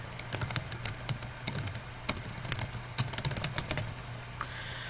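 Fingers type on a computer keyboard in a quick, irregular run of close key clicks, pausing briefly before another burst, with no talking.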